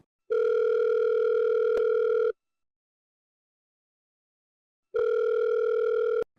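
Two bursts of an outgoing phone ringback tone, each about two seconds long, separated by a long silent gap.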